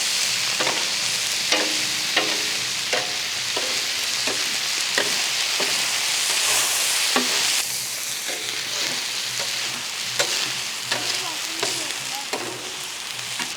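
Boneless chicken fries in oil with ginger garlic paste in a pan, giving a loud, steady sizzle up close, punctuated by regular clacks and scrapes of stirring.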